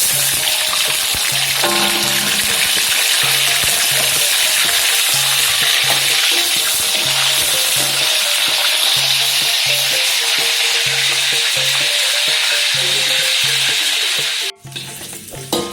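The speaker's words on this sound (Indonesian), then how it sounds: "Goreng jengkol yang kedua." Steady, loud sizzling of jengkol beans frying in hot oil, with occasional stirring clinks, continuing without talk until a brief clatter near the end.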